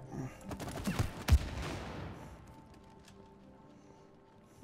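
A few sharp gunshots at a shooting range in It Takes Two ring out in the first second and a half, one heavy hit standing out, then fade into a long decaying tail and quiet game ambience.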